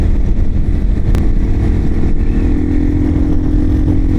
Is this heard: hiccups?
no